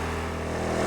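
A Power Smart 2500 inverter generator running in eco mode gives a steady, close engine hum with a slight rise in pitch toward the end.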